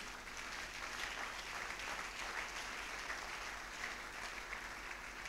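A church congregation applauds together in a steady, dense wash of clapping that holds at an even level throughout, heard from within the room.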